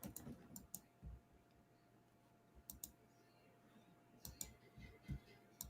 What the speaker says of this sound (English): I'm sure everyone can hear my typing